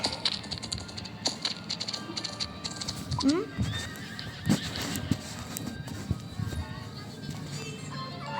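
A horse neighs and whinnies repeatedly while hooves clip-clop in a horse video game, with a person talking over the sounds throughout.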